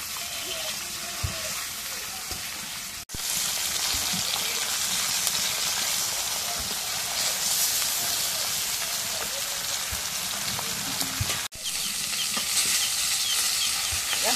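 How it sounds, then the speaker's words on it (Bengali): Fish frying in oil in a home kitchen, a steady close sizzle and hiss throughout with occasional spatter and utensil scrapes, interrupted by two brief dropouts. "মাছ ভেজে মাছ ভেজে এখন নামাই নেই।"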